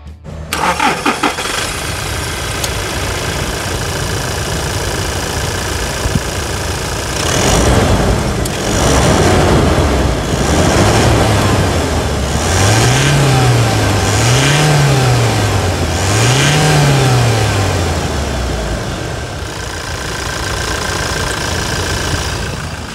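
A Toyota pickup engine cranks and fires up, then settles into a loud, close idle before several rising-and-falling revs swell and fade, with no talking over it.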